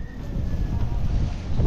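Steady wind buffets the microphone with a low, continuous rumble at a lakeside fishing spot in Binangonan, Rizal, no voices.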